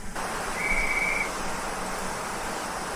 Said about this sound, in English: Don't know what guard's blowing his whistle for us.